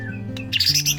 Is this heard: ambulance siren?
no